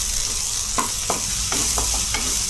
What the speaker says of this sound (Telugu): అల్లం వెల్లుల్లి పేస్ట్, కొంచెం జీలకర్ర, ఇవన్నీ పచ్చివాసన పోయేవరకు వేయించుకోవాలండి.